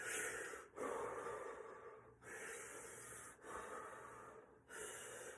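Slow, deep breathing during a fascia movement exercise: long airy inhales and exhales in steady cycles, each breath a broad hiss separated by brief pauses, close and fairly soft with no talk.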